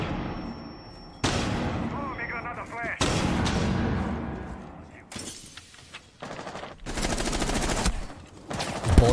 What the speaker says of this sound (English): Bullets being shot back and forth now